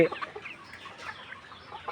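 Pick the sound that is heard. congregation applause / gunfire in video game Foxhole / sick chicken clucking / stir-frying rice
sick chicken clucking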